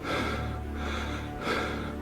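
A man takes a sharp, loud breath in a Hindi crime thriller audio drama, a harsh, breathy rush of air that swells twice, close and alone.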